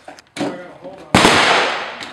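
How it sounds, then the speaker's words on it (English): A Kimber 1911 .45 ACP pistol fires on an outdoor range: a sharp crack, a pause, then a second loud broadband blast that rings out, with faint voices before the shots. "I'm going to shoot the 1911."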